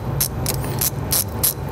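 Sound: loosening the nut on a car battery's positive terminal

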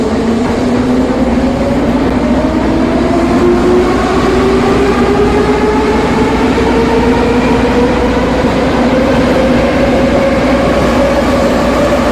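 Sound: Kyiv metro train ride in the video game Kyivmetromasters

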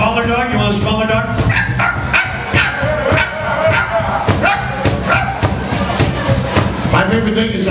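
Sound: crowd imitating drunk dogs barking

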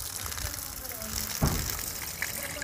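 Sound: homemade DC water pump spraying water

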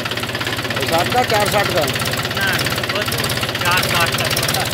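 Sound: Mahindra 265 DI tractor engine running

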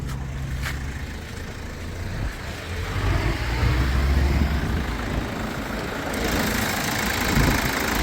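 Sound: car engine idling

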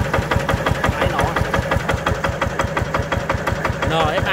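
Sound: diesel engine of a tracked mini dumper running

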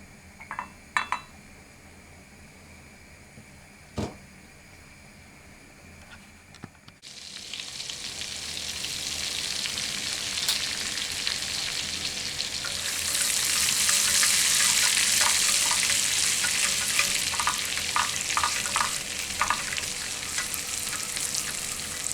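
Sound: butter and dried mint frying in a pan

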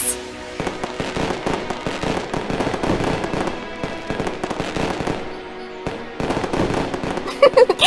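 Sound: fireworks in video game Genshin Impact

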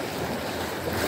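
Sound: small sea waves around a fishing boat

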